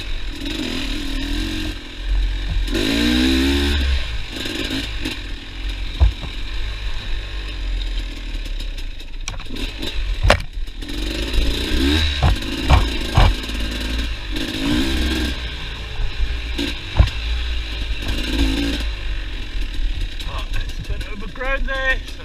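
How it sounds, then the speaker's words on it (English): A dirt bike rides a mountain bike single track, its engine revving and surging in rough rises and falls with clattering bumps, loud and close throughout. "It's pretty tricky with a dirt bike, but if you can manage to get a good flow, you can really rip through this section as well."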